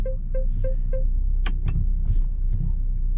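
A Volvo electric parking brake engages, heard as four quick electronic chimes followed by short mechanical clicks and a brief motor whir inside the car.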